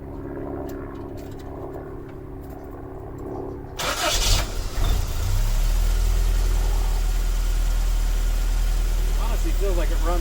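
A 1984-89 Toyota Van Wagon on a trailer starts up after a fuel pump replacement, cranking briefly and then settling into a steady, loud, close engine idle, with people talking before and over it.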